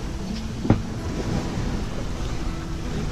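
Wind and waves wash around a sailboat crossing the Gulf Stream at night, a steady broadband rush with one brief thump near the start and no talking.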